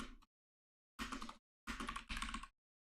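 Bursts of computer keyboard typing as a live-agent chat message is written, three dense clusters of rapid key clicks separated by silent gaps, close and clear with no talking.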